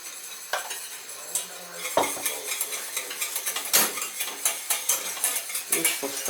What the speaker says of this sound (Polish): Mieszamy, aby nie porobiły się grudki.